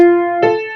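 A Japanese In mode scale begins with one sustained note, then a second note is struck and rings on. The instrument is clear and close, and no one speaks.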